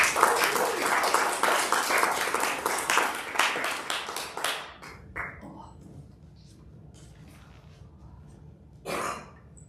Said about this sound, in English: let's give a round of applause for Margaret.